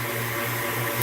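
A mixer with a whisk attachment whips ingredients with an even, continuous whirring motor hum. The sound is brief and steady, with no voices.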